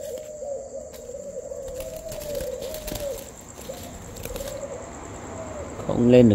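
A spotted dove coos in repeated low, soft calls at close range, with background hiss, a faint voice and a louder clattering noise at the end.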